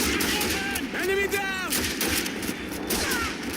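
Rapid bursts of rifle and machine-gun fire in the World War II shooter Call of Duty 2 crackle continuously over a dense battlefield din, with a voice talking over it.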